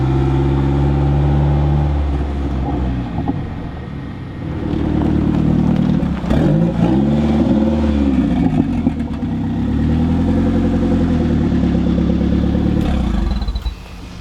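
A mid-engine conversion Mitsubishi Eclipse on the road, its engine a loud, steady droning hum with rising and falling rev sweeps and clattering underneath, heard close from inside the car throughout.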